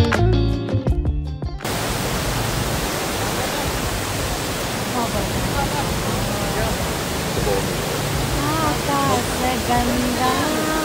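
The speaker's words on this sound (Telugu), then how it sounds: "అమ్మో చూడు వాటర్ ఫాల్" Broad, steady roar of a waterfall seen on a Kerala-style travel outing, filling the clip loud and unbroken after a short burst of other sound at the start; voices come and go underneath.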